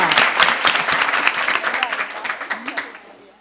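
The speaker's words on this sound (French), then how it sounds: "On applaudit très très fort pour nos débatteurs." An audience applauds loudly for debaters at a debate contest, dense clapping that thins into scattered claps and fades out; a voice can be heard amid the clapping.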